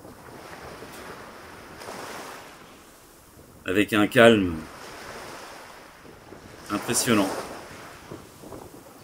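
Steady wind and surf roar on the coast of Mauke, Cook Islands, while a person speaks briefly twice over it.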